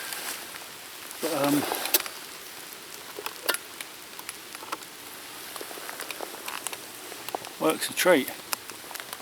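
Light rain patters outdoors on cover beneath a tree, a soft steady hiss with scattered drips, while someone speaks briefly nearby.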